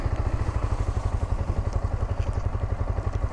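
A Yamaha R15 V4 motorcycle running with its engine idling steadily, a close, loud, even thrumming pulse with a rattly clatter over the whole stretch and no talk.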